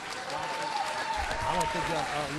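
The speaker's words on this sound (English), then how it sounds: "One more round of applause for all of our Urbaneers" Audience applause at the Charleston Urban Works Urbanite Awards, a steady crowd of clapping with a voice speaking over it.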